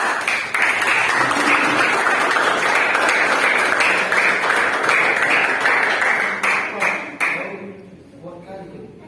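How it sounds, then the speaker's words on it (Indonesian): Students applaud after a group class presentation, a dense, loud burst of clapping from a classroom that holds steady for about seven seconds, then thins out and fades, with voices audible underneath. "Oke, tepuk tangan nak."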